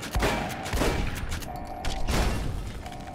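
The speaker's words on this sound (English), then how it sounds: "That was some sort of explosive weapon." Explosive weapon blasts in the video game Fallout New Vegas at Hoover Dam: loud, repeated booming bursts with rumbling low-end impacts, several in quick succession, filling the scene.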